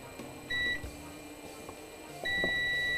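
Two steady electronic beeps from a multimeter continuity tester on a parallel circuit lab setup, the first short and the second longer, sounding close and clear over a faint background hum.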